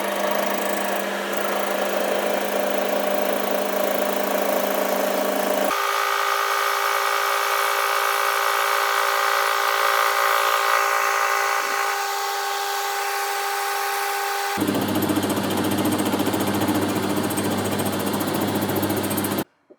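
A metal lathe turns a steel bar against a high-speed steel tool set at centre height, giving a continuous, loud machine drone whose tone shifts in distinct stages, with no talking.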